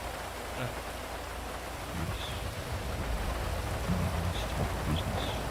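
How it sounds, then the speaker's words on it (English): Heavy rain in a GTA video game pours in a dense, steady hiss with scattered drop impacts, growing slightly louder midway, and no talk. "The rain's too fucking loud."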